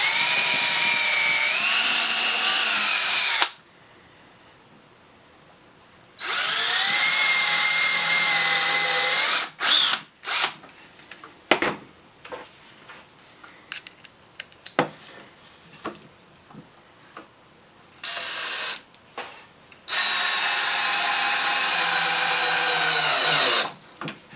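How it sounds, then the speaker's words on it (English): Power drill boring holes into a wooden patio chair: two loud whining bursts of drilling separated by quieter handling clatter and knocks, then a third long burst near the end. "I've set the depth of my drill bit here. So we'll drill these two."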